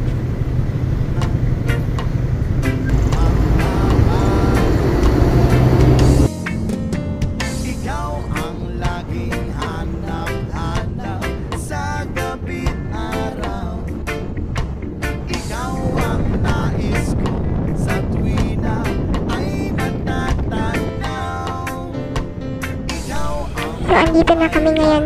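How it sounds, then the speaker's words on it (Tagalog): Road traffic on the way from Tarlac to Paniqui rolls past continuously, with engine drone, passing vehicles and buffeting wind noise, fairly loud and close throughout, a sharp change in the mix partway through. "Masyadong traffic."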